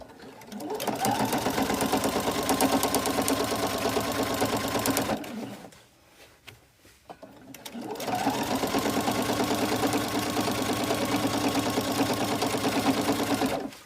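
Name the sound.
sewing machine stitching in the ditch on a quilt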